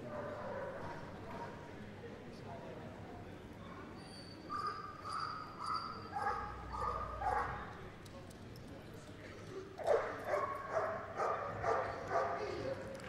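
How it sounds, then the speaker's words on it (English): A police dog barks in short, rough bursts at a distance during a police dog display at a dog show, with voices and background commotion mixed in, growing louder toward the end. "He'll just bark at Dave till he's rewarded."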